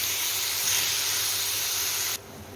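Small boneless chicken pieces cook in hot oil with a steady, loud hissing sizzle that holds for about two seconds, then drops off abruptly to a quieter background.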